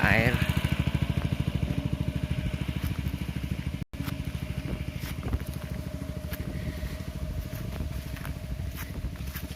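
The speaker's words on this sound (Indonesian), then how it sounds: "kebetulan ada suara mesin yang mengambil air" A motor-driven pump drawing water runs steadily in a village, a continuous throbbing engine drone at close range, with a voice speaking over it.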